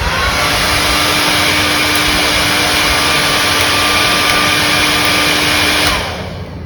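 Professional 2200-watt hair dryer with a DC motor blowing at full power, a loud, even, continuous whoosh heard up close that winds down abruptly near the end.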